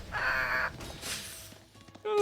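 Crows cawing in a real-time strategy game, a few harsh calls repeating in a short burst over game ambience and other effects.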